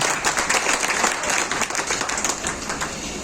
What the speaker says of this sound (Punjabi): ਉਦੋਂ ਪਹਿਲਾਂ ਇੱਕ ਤਾੜੀ ਜ਼ਰੂਰ ਮਾਰ ਲਓ